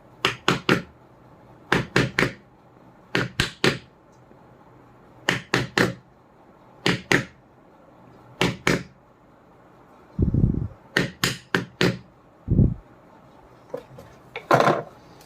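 Hammer blows driving parts into a ceiling fan during repair: sharp knocks in quick clusters of two or three, repeated steadily and close, with a few duller thuds near the end and no talk.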